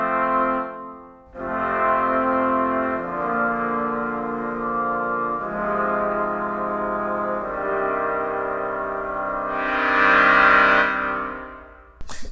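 Orchestral Tools Berlin Muted Brass ensemble playing sustained chords with a soft attack, a rich, buzzy muted brass tone that swells gently, changes chord several times and brightens near the end before stopping.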